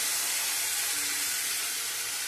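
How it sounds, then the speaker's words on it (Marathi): Soaked, washed masoor dal fries in hot tempering oil, a steady dense sizzling hiss that stays even and close throughout. "आता डाळ पहिली आपल्याला फोडणीमध्ये व्यवस्थित परतून घ्यायची आहे."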